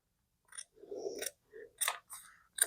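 Scissors snipping through fabric while finishing a cross stitch piece, several short crisp cuts with brief pauses between them, close and clear against silence.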